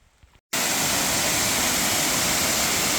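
A waterfall on the trail up Katahdin crashes in as a loud, close, continuous roar after a short moment of quiet, with no voices over it.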